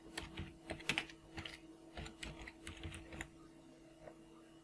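Computer keyboard keys clatter in quick irregular bursts as a file name is typed, close and fairly faint, with no voices.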